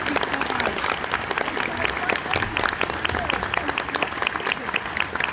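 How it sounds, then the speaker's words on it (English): A Comic Con 2022 convention audience applauds a guest panelist, a dense, continuous roar of clapping from a large crowd that holds steady throughout, with a voice and faint cheers mixed in. "Round of applause for yourselves and for Stephen Ogg."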